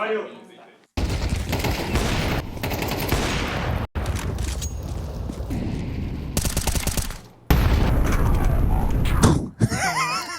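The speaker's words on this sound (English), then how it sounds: "Just him getting wrecked by the nade" An HE grenade explodes in Counter-Strike amid a competitive match, with sharp blasts and bursts of gunfire cutting in loudly over constant background noise.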